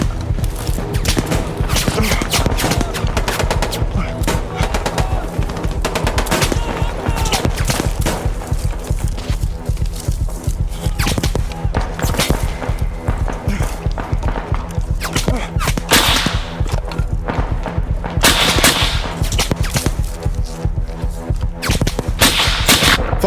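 Rapid airsoft gunfire crackles almost nonstop during an outdoor skirmish, dense overlapping bursts of shots near and far filling the whole stretch with little pause.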